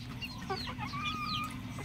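Young chickens of about three months on a small farm cluck and chirp softly, with scattered short calls over a low background hum, fairly faint and distant.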